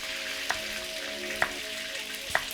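Onions and tomatoes frying inside a duck skin with a steady close sizzle and a few sharp pops.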